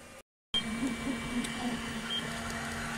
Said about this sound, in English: I love watching this printer printing away.